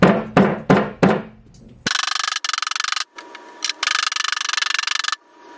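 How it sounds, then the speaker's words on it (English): Four sharp, heavy thuds in a quick series as a rubber mallet bangs a tack strip on a vanity stool, followed by a long stretch of dense rapid mechanical chatter that pauses briefly and then resumes. "Grab my mallet, bang this"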